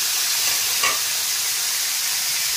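Onion and chicken sautéing in a hot pan for a Filipino pininyahang manok, a steady broadband sizzle holding for the whole stretch with a brief brighter spatter near the start, no voices.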